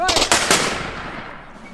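Single close flintlock musket shot fired on command at an outdoor demonstration, a sharp loud crack and boom followed by a quickly fading echo.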